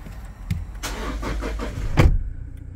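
A 2017 Toyota Land Cruiser Prado GXL starts up: a brief crank followed by the engine catching with a rising burst, then settling, all close and with no talk.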